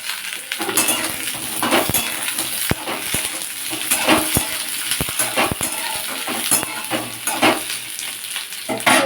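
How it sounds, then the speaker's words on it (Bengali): Cubed potato and eggplant sizzling in hot oil in a pan while a utensil stirs and scrapes, with sharp clinks and taps recurring irregularly over the steady frying hiss; no talking. "আলু আর বেগুনটা দিয়ে নাড়াচাড়া করবো"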